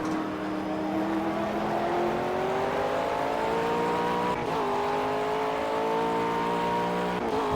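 McLaren and Audi race cars in Project CARS, engine whine climbing steadily through the revs, shifting, then climbing again, a continuous high-revving drone with no talking.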